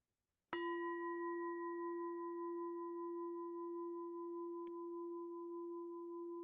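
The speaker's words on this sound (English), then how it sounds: "when we hear the bell is a reminder to awaken" A meditation bell is struck once and rings out in a long, clear, slowly fading tone in a quiet room, with a faint second light tap partway through the decay.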